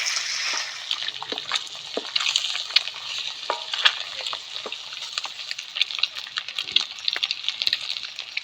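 Boiled eggs frying in oil in a wok, giving a steady sizzle with scattered crackles and spatters throughout, close and fairly loud, no talking.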